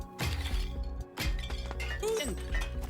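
Heavy hammer blows smashing objects in a video game, a couple of loud crashing impacts with shattering, clinking debris, set under a busy game soundtrack and voices.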